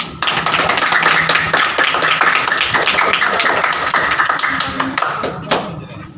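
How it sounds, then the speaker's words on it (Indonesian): Classroom applause for a student presenter in an Indonesian school lesson, a busy patter of many hands clapping steadily and fairly loud, with a few voices mixed in. "tepuk tangan untuk Nadif"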